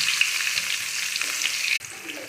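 Cumin seeds spitting and crackling in hot oil in a pan for an upma, a steady close sizzle that briefly cuts out near the end before resuming more quietly.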